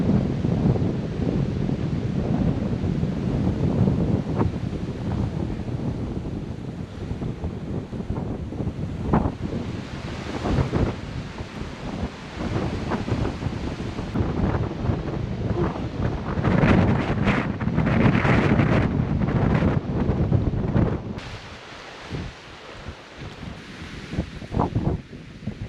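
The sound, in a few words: wind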